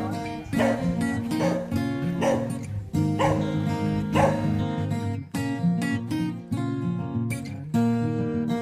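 Dogs and small puppies at a temple bark, yip and whimper in quick overlapping bursts, close and fairly loud throughout, with no talking.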